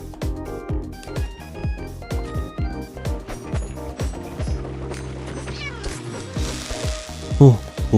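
Minecraft cat meowing in-game, repeated short mews and gliding cries mixed with game sounds and clatter, fairly close and steady throughout.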